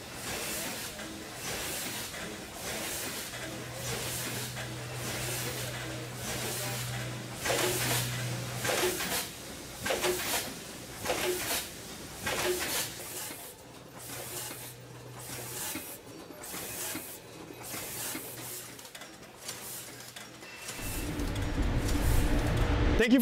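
An R.A. Jones pouching machine runs with rhythmic pneumatic hisses and mechanical clatter repeating about once a second, plus a low motor hum that comes and goes, ending in a louder burst of machine noise.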